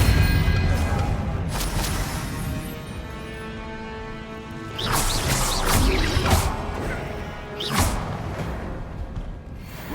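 In the video game Hogwarts Legacy, a Confringo blasting spell erupts in loud crashing bursts amid ongoing combat effects and a game soundtrack.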